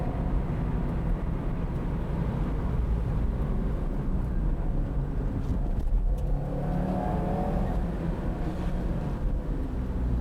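A rally car driven by WRC champion Solberg runs through a course, its engine a steady loud drone that rises and falls as it accelerates and brakes, with no voices.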